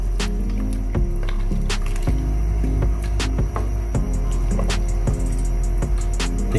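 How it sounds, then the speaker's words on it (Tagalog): Pork nilagang baboy soup being stirred in a pot, giving soft repeated squishy sloshes and light knocks over a steady low kitchen hum, close and continuous. "Haluin lang natin to."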